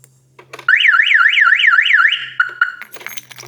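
A car alarm blares loud and close, a rising-and-falling warbling wail that cycles rapidly for about a second and a half, then shifts to a steadier tone before cutting off amid clunks and rattles.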